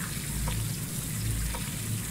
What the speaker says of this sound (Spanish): Se ha abierto un grifo en el baño